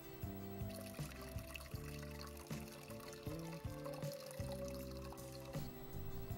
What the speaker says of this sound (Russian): Через 10 минут сливаем воду со всех банок и ставим ее кипятить.